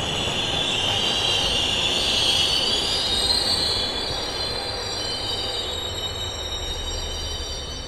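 A passenger train brakes to a stop, with loud, high metallic wheel squeal over a rumbling carriage. The squeal swells, then eases slowly across several seconds, and no voices are heard.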